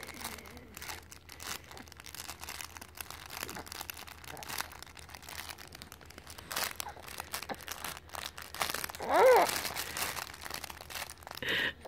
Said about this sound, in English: Thanks for the crinkly book